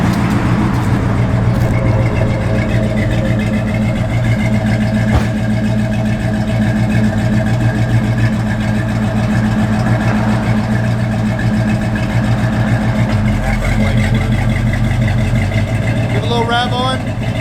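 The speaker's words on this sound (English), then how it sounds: "It's got good sound. It's a good car, man." A 1972 Dodge Demon's engine runs steadily and loudly with a deep, continuous rumble throughout, heard from close by, while someone talks over it.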